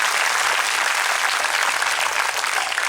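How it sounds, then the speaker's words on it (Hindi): An audience claps throughout at a happiness programme session, a steady, dense wash of applause with no voices over it. "बजा दो ताली, ताली में क्यों कंजूसी करनी है?"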